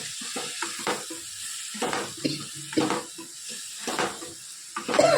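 A spicy chili and mango pickle mix being stirred in a pan, with irregular scraping and clinking strokes over a soft sizzle, close and fairly quiet, with no talking.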